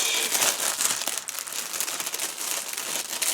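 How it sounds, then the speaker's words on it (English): Resealable plastic bag holding sprues from a 1/35 Tiger I early production model kit being handled, a steady close crinkling and rustling that continues throughout without talk. "And are these resealable bags?"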